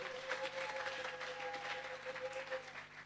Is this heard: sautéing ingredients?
no